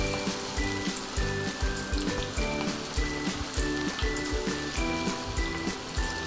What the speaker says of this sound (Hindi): एक बार हम थोड़ा सा हल्का सा फ्राई करेंगे, उसके बाद हम डबल इसको फ्राई करेंगे